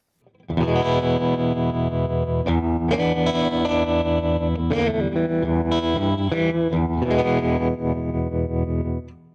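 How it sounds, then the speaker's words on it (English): Electric guitar played through a 50-watt Vox Cambridge 50 amp with a 12-inch Celestion speaker, using tremolo and spring reverb for a swampy tone; sustained chords ring loud and steady for about nine seconds with audible pulsing and a few brief changes. "Let's check out a bit of tremolo and a bit of spring reverb for a classic swampy tone."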